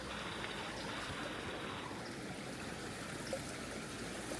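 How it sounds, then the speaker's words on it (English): A creek running over rocks along a nature trail in Gatlinburg, Tennessee, a faint, steady babbling wash of water with no voices over it. "Oh, listen to the sounds of water."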